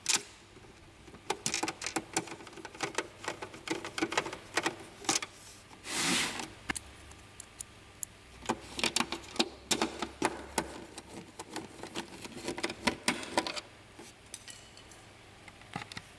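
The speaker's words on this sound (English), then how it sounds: "Reinstall the other two screws." Small screws being driven back into the scanner unit of an Epson XP series printer, giving repeated dense clicking and ratcheting bursts with short pauses and one brief whirring swell, close and fairly quiet, no talking.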